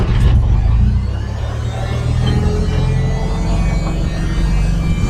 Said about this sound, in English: we're getting ready to fire up the carry deck